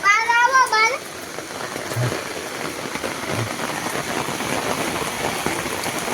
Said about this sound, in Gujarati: વરસાદ થયો ચાલુ